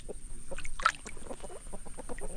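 A chicken in a Filipino farmyard near a corn field clucks agitatedly in short, repeated bursts, close and fairly loud, with a brief sharper squawk near the start over faint background noise.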